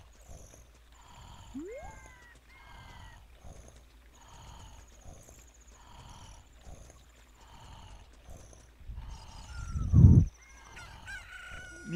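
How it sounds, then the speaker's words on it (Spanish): A cucco chicken in The Legend of Zelda: Ocarina of Time clucks repeatedly, then crows in one loud burst near the end, with other game sound effects playing around it. "ahora lo despierto con la gallina"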